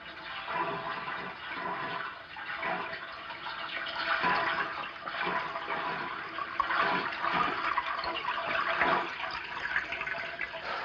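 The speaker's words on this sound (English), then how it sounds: "I told you it sounded like water running." Steady rush of running water, as from a tap filling a bathtub, continuous and fairly close, alone without any voices throughout.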